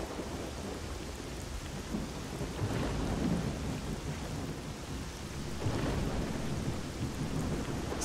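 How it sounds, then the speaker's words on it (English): Thunderstorm in S.T.A.L.K.E.R.: Shadow of Chernobyl, with steady heavy rain hissing on surfaces throughout and low rolling thunder swelling a couple of times, loud and enveloping with no voices. "Surprisingly, this game does lightning really well."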